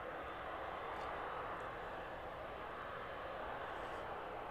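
A jet airliner taxiing towards runway 09 at East Midlands Airport in the evening, its engines giving a steady, loud broadband roar that holds constant throughout with no break.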